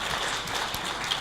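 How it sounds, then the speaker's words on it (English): Audience at the CIRCOM regional annual conference clapping in a broad, steady wash of applause filling the hall, brief and moderately loud. "I think we could give her and her colleagues a big round of applause"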